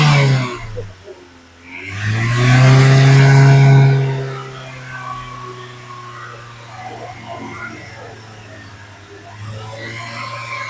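A car engine with a thermostat fitted, revved during a radiator check on a car whose murky, muddy radiator had long gone uncleaned. A loud droning rise of the revs is followed by a steady idle hum.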